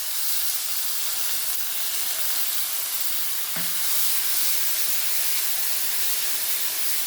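Ground coriander, pepper and green chilli paste hisses and sizzles steadily in a hot pan of oil for fish curry with brinjal, a close, continuous frying sound with a brief clink midway.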